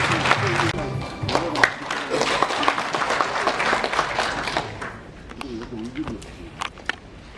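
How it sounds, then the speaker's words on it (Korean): An audience at the opening of the 2019 World Jeju People's Convention, a chamber of commerce event, gives sustained applause that fades out, with background music and a voice behind it. "여러분 박수로 맞이해 주시기 바랍니다."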